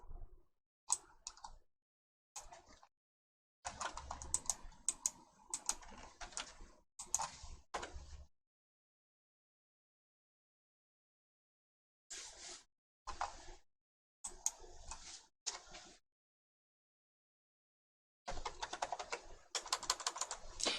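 Bursts of computer keyboard typing as Pixabay is entered into a search box, close and crisp, in several separate runs of rapid keystrokes with silent gaps between them.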